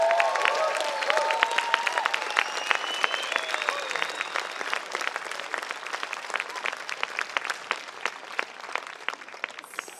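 A crowd at a community unity event in Gympie applauds steadily for about ten seconds, with dense, even clapping throughout and a few voices or whistles rising near the start.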